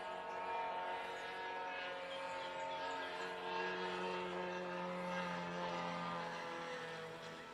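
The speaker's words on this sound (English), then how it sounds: "it is a drone that's flying right over this direction to the right of the camera" A drone flies overhead near the Savasleyka airfield, its steady multi-toned motor hum droning continuously at a distance, fairly faint and unchanging over several seconds.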